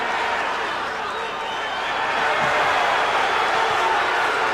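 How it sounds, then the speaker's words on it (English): A boxing crowd roars for Ray Mancini during his lightweight title fight against Kim Duk-koo, a dense, steady wall of cheering that swells louder midway, with a commentator's voice running underneath. "Crowd coming alive here, the Mancini partisans."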